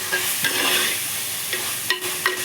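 Curry leaves, onions and tomato fry in a pan for a fish curry while a spoon stirs them. Loud, close sizzling runs throughout, with several scraping stir strokes.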